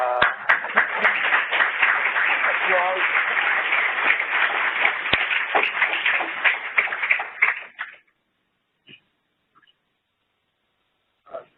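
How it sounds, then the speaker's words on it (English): Lecture-hall audience applauding at the end of a talk on expertise in healthcare and safety: dense, steady clapping close by for about eight seconds, then cutting off to near silence with a few faint knocks. "applause"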